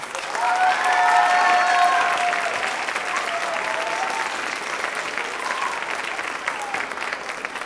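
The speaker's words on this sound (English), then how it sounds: "Let's give him a round of applause" An audience at a middle school band concert applauds student intern Ian Cohn, a sustained wash of many hands clapping that swells early and then holds steady for several seconds, with faint cheers threaded through.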